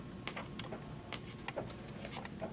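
An embroidery machine stitches a monogram on a towel, a quiet, rapid irregular ticking and clicking of the needle over a faint motor hum.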